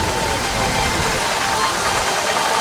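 A freelance steam engine running at a steam rally gives a steady, broadband mechanical rumble and hiss, continuous and fairly loud throughout, with speech mixed in over it.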